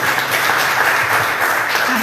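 A church congregation at a Sunday service applauds together, a steady, dense wash of many hands clapping that fills the whole moment without a break, with no talk rising above it.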